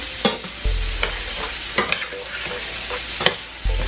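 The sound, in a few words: toasting rice in butter and oil in pan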